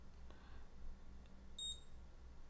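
A Graupner MZ-32 radio transmitter gives a short, bright electronic beep as the throttle stick passes the halfway point; a single brief double-toned chirp in an otherwise quiet room.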